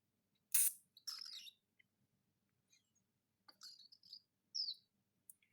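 Young cockatiel, about 15 to 16 weeks old, giving short bright chirps and squeaky calls while being scratched, several scattered bursts with quiet gaps between them, close and clear.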